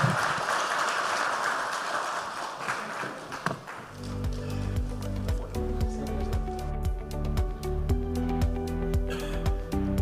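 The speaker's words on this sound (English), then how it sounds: "Please give my panel a very big round of applause." A conference audience applauds a panel of speakers at a cross-border startup venture event, a broad wash of clapping that shifts into scattered, sharper individual claps and taps.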